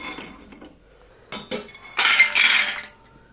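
Almonds roast in a pan, giving a few brief metallic scrapes and clinks as they are stirred and tossed against the metal, fairly close and with no talking.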